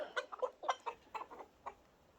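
Orpington and Wyandotte hens in a backyard flock give a quick run of soft, close clucks, about ten short notes in uneven bursts, fairly faint and without talk.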